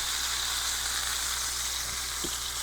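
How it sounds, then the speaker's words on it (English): A steak sears fat side down in a hot pan, giving a dense, unbroken sizzling hiss that stays close and even, with a couple of faint low knocks near the end and no voices. "Now, on the steak, Colson told me to always sear it on the side, on the fat side"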